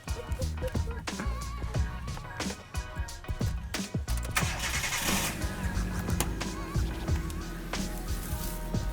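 A personal car's engine cranks and starts up, a mid-pitched rumble rising and settling into a steady idle at close range, with some faint voices and handling noises around it.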